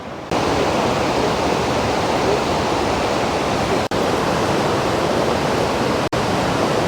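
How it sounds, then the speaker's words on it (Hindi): Aharbal waterfall in Kashmir, a loud continuous roar of rushing water pouring from near a cave, steady and close with no voices, broken only by two tiny dropouts. "तो ये जो वाटरफॉल है ना,"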